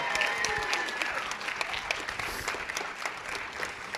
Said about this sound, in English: can we just give a loud applause to the Capitol Theater for welcoming us into their home?